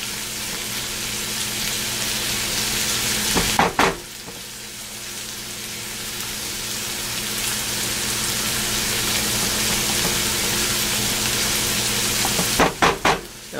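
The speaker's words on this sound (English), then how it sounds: "the onions are cooking really well" Onions sizzling steadily in a hot pan on a stovetop, a constant frying hiss broken twice by brief stirring clatters, with no talk.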